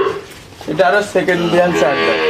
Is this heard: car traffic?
no